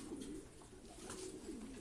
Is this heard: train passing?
no